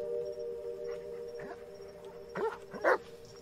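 A dog whimpers in the Blair Witch video game, short soft whines and yips arriving in two brief bursts near the end over a steady droning game ambience.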